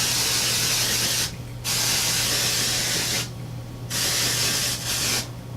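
Three long bursts of L'Oreal Colorista pink hair color spray hissing from a precise nozzle, close and loud, each broken by brief pauses with a steady low hum underneath.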